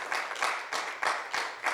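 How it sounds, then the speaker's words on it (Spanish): Church congregation applauding during a Spanish-language sermon, with loud bursts of clapping that swell and ease in a steady rhythm, close and filling the room. "denle ese aplauso al Señor"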